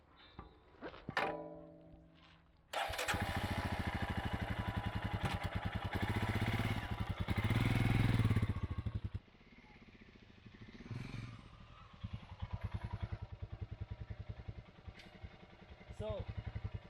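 Motorcycle engine on a test ride, heard by a rider wearing Orazo Ibis motorcycle boots: a steady, loud, pulsing engine drone that swells for several seconds, drops away, then returns at a lower, rougher rhythm, with brief talk early on.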